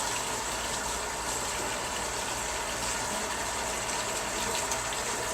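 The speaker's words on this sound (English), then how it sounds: "Always wash your hands" Hands are washed under a running kitchen tap before cooking, a continuous close rush of splashing water that holds steady throughout with no talk.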